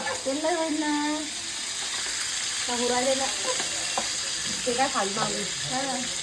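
Oil sizzles and fries steadily in a pan in a home kitchen, with a constant bright hiss throughout. Voices talk intermittently over the frying.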